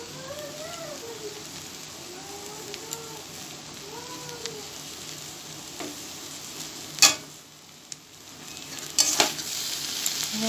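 Banana flower curry cooks with ghee in a pan, giving a soft, steady frying sizzle under faint tonal chirps, with a few sharp scrapes of stirring near the end.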